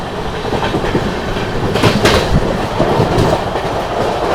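Sealdah–New Delhi Rajdhani Express passenger train running on rails, a loud, close continuous rumble with rhythmic clickety-clack of wheels over rail joints and a few sharper bursts.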